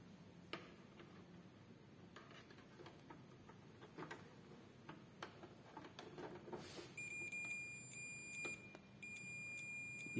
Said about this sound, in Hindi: ये मल्टीमीटर के अंदर एक हमारा बजर है जिससे साउंड आ रहा है